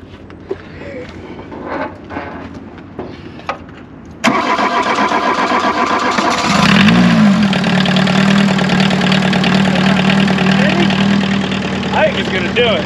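A VW Golf I diesel engine cranks and catches after a few quiet knocks and rustles, then settles into a steady, loud, clattering idle heard up close, with brief talk early on.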